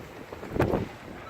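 Blizzard wind gusting across a balcony in Yakutia, a steady roaring rush with a brief louder swell in the middle, buffeting the microphone at close range; no voices.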